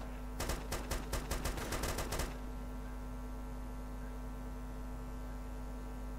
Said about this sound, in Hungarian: Lövések az utcán.